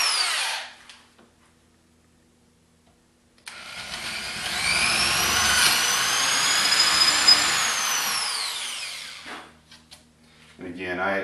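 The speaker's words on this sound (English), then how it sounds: "we're going to drill them both out to a 3/8 hole" A power drill whines loudly and steadily for about six seconds, drilling a 3/8 inch hole into particle board, bracketed by short bursts of machine noise, with a brief pause of near silence early on.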